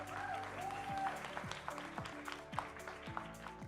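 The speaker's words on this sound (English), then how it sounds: "A big round of applause for Tim, please." Applause for Tim Cadogan walking onto a conference leaders stage, a light patter of clapping with scattered sharper claps, moderately quiet and steady throughout.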